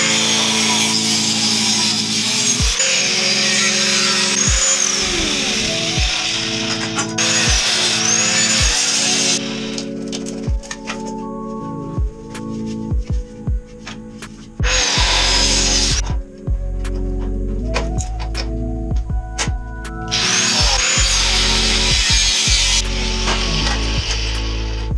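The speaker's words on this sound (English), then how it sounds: "So I'm cutting pieces off, and it looks like there's pipes inside of pipes inside of pipes" A power tool cuts extra metal pipes off a mini chopper frame, with several loud sustained grinding cuts broken by clanks, pauses and a steady low hum, close and without talk.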